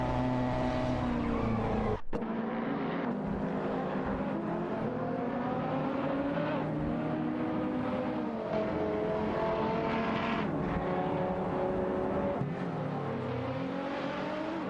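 Video game race cars, a BMW i8 and an Aston Martin DB11 V12, roar continuously with rising and falling engine pitch as gears shift, close and loud, with brief tire skids and passing cars mixed in.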